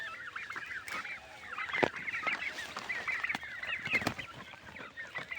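A flock of turkeys calls in a steady stream of nasal, honking gobbles and chirps, fairly close, with occasional louder bursts.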